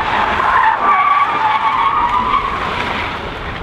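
A front wheel drive car doing donuts produces a loud, sustained tire squeal and skid, close and continuous for several seconds, gradually fading slightly toward the end.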